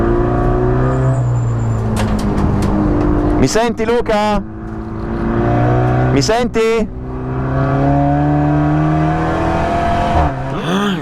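A race car engine screams at speed during a 24-hour endurance race at Adria, heard from the driver's helmet camera, with revs rising and falling through gear changes and braking, loud and close under a driver talking on the radio.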